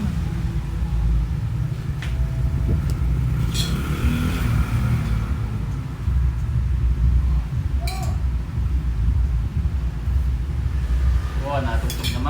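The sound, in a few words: tricycle passing by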